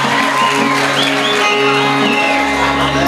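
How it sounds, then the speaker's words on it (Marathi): Crowd at a live stage show in Maharashtra for performer Gautami Patil cheering, whooping and shouting loudly and continuously, with a low sustained hum entering near the end. "गौतमीसाठी सर्वांनी जोरदार टाळ्या."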